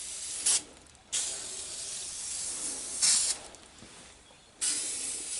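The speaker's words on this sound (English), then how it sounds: "you want to just spray the shit out of it" An aerosol can of lubricant hisses in several short bursts, separated by pauses of quieter hiss, close to the microphone.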